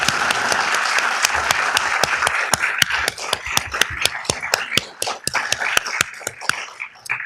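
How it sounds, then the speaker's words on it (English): A city council meeting audience applauds police officers, a sustained burst of clapping that thins toward the end into sharper scattered claps. "Please give them a round of applause."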